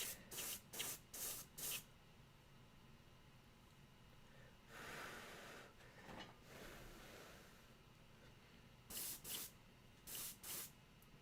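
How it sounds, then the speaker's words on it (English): Short bursts of spray from a spitty airbrush applying paint to a Warhammer 40k Necron Overlord miniature, several quick hisses at the start, a longer sputtering spray in the middle, and more brief bursts at the end, close and fairly quiet. "Airbrush is being a little spitty, but I think I'm gonna get the job done anyway."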